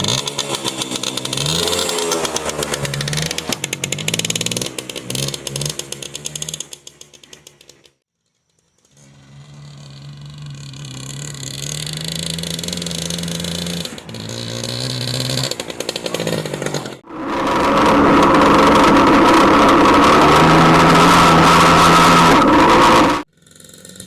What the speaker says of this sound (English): ride this thing around, shift through all the gears, but the whole time holding the clutch in